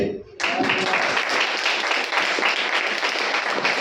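A church congregation claps together in a worship service, opening with a brief quieter moment before a loud, dense, sustained round of applause fills the hall.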